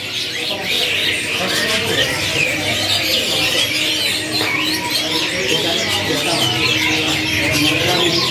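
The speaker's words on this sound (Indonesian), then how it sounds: "Lumayan berisik ya" Caged birds at a bird market kiosk, including songbirds, chirp and call in a dense, constant noisy chorus close by, with a voice talking over it.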